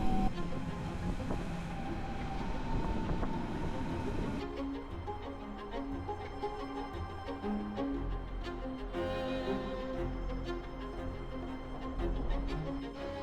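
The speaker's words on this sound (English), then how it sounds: "Now we need to hop on the S-Bahn City Railway" Berlin S-Bahn City Railway train heard from on board, a steady rumbling run with the pitch of the motors shifting as it rolls along, no voices.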